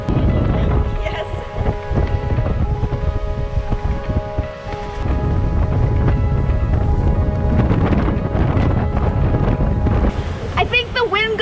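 Strong wind buffets a sailboat sailing upwind in the South Pacific at around 18 knots, a loud steady roar with gusty rushes and water noise throughout, with a few creaks near the end.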